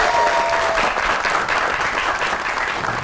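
A studio audience on a comedy talk show welcomes biker Humera Sadiq with loud, close, continuous applause and some crowd noise, sustained evenly for the whole stretch.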